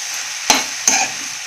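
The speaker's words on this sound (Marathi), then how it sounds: "हलवून घेते." Moong dal and dill greens vegetable dish being stirred in a pan with fresh coriander, two quick scraping strokes over a steady faint sizzle, close and alone.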